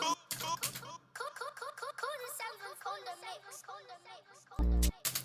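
Producer mix tag for a UK drill track built in FL Studio, a short processed vocal phrase with glitchy, pitched, stuttering effects and a sudden low buzzy hit near the end, moderately quiet.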